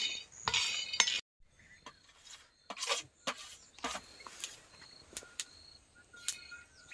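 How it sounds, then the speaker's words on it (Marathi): Peanuts being dry-roasted in a pan, with intermittent scraping and clinking stirs and rattling nuts in short bursts, close up, separated by quiet gaps and no talking. "शेंगदाणे पण आपल्याला चांगले लालसर भाजून घ्यायचे"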